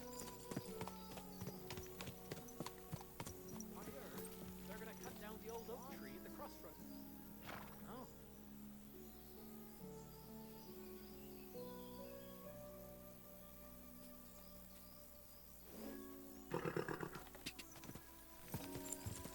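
A horse in Kingdom Come: Deliverance II clip-clops along at a steady walk with a brief whinny, under rain and quiet background music while characters talk.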